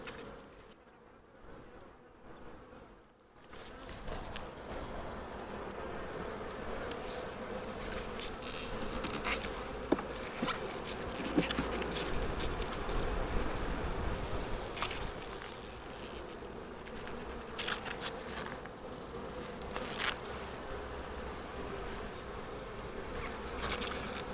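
Dense, continuous buzzing of many honey bees close by at an open hive, a steady hum with occasional louder passes of individual bees.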